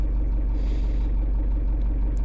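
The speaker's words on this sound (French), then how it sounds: "J'ai démarré le moteur pour voir un peu ce que ça donnait." An idling engine on a solar-equipped setup hums with a steady low rumble, close and constant, and no shutdown is audible within the short span.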